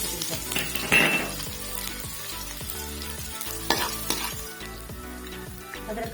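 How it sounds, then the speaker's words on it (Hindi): Onion frying in hot ghee in a kadai for a Sindhi chane ka saag, a steady broadband sizzle with occasional stirring scrapes and clinks, close and fairly loud, with no talking. "यहाँ पे हमने कढ़ाई में घी डाल दी है, घी हमारा हो चुका है गर्म। तो हम इसमें हमने प्याज दिया"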